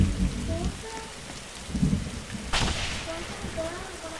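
Steady rain patters on surfaces in a forest survival video game, with a sharp thunder crack bursting out midway over the constant hiss.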